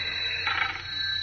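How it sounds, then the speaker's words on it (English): Telephone ringing in an old-time radio drama, a steady bright electronic trill held for just over a second, moderately loud with no talk over it. "That's my phone."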